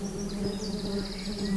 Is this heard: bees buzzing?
yes